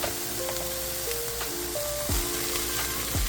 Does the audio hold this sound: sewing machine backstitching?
no